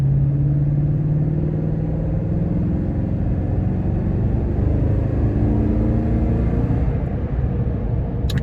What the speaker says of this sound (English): So I just want to give it a little gas, run it up and see how it feels before I switch over.